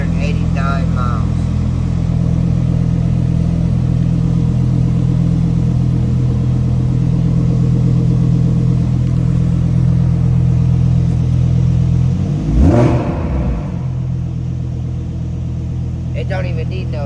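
A wide-body Lamborghini Huracan Evo idles with a loud, deep, steady engine rumble after a cold start, then gives one sharp rev burst near the end, with people talking over it.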